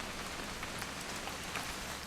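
Steady rain hissing and pattering on surfaces in the video game What Remains of Edith Finch, a dense, even wash of drops with no voices, close and continuous throughout.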